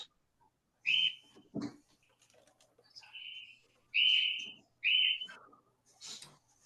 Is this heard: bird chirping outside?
yes